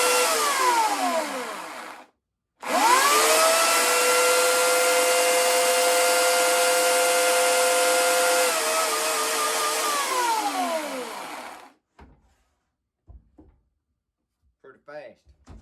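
A Worx electric chainsaw runs with a loud, steady whine. It stops briefly, spins up again and holds for about nine seconds, then winds down. Faint handling noises follow.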